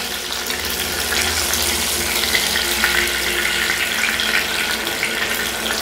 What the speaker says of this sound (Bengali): হালকা করে ফ্রাই করে নিয়েছি